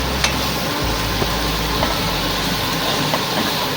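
Shevla, a wild monsoon vegetable, sautéing in a pan for an Agri-style tamarind curry, giving a steady close sizzle with faint stirring scrapes and a low rumble throughout, no talking.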